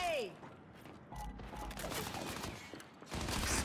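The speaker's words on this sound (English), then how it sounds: "It's a rail gun, actually." Rail gun firing in the Gears 5 video game during a ranked match, heavy crackling blasts and bursts layered with game effects and a voice speaking.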